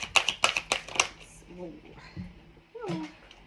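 Tarot cards shuffled in quick riffling bursts up close at the start, followed by a speaking voice.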